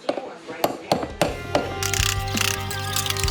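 Ratchet working on a stuck carriage bolt during mower work: sharp metallic clicks and knocks at irregular intervals, then a denser rattling mechanical stretch, close and clear.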